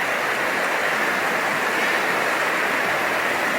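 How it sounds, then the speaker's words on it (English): A small waterfall along a forested stretch of the Superior Hiking Trail gives a steady, broadband rushing hiss of falling water, constant and fairly close with no break or voices. "Small waterfalls everywhere on this trail."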